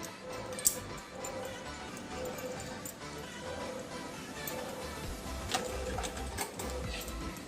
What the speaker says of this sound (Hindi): तो ये बॉबिन पूरा भर के लीजिए।